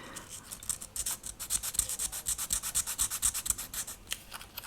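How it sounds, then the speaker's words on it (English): Wet and dry sandpaper rubbed over a small wooden panel for a model ship: a close, steady run of quick rhythmic scraping strokes, fairly soft, with no talking. "you can go in with a little bit of sanding paper to tidy that up. So a little bit of wet and dry,"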